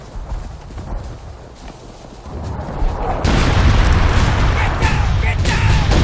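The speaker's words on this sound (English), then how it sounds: "Incoming artillery!" Artillery fire in the Civil War game War of Rights builds into a dense, loud barrage of booms and battle noise, swelling sharply midway and staying heavy to the end.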